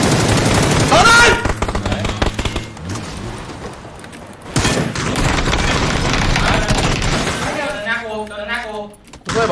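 Bursts of automatic gunfire and explosions from the battle royale game PUBG crackle loudly in quick volleys, mixed with excited shouting from players.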